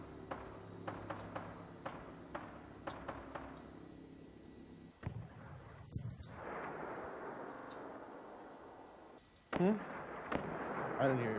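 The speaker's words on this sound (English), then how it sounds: "Oh, they're shooting." Gunfire and explosions in the video game Rust, faint sharp reports in a quick series early on, then a low rumbling burst and a louder blast near the end, with people talking over it.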